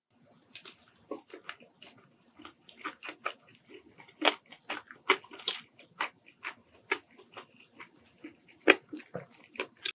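Someone bites into crunchy Goobne Namhae garlic crispy fried chicken, giving a series of close, sharp crunches and chewing crackles in an irregular rhythm against a quiet background, with no talking.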